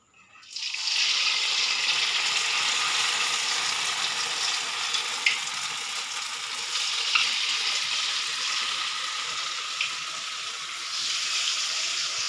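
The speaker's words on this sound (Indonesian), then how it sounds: "Setelah tahu dilumuri dengan tepung terigu hingga merata, kita selanjutnya melakukan proses penggorengan." Flour-coated tofu, made as spicy stuffed tofu, frying in hot oil: a steady, loud crackling sizzle begins after a second and carries on unbroken, with small pops and faint stirring.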